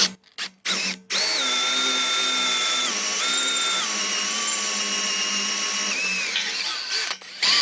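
A worn Makita power tool with tired bearings whines steadily while sharpening a metal blade, its high pitch shifting as the load changes, preceded by a few short bursts before one long continuous run.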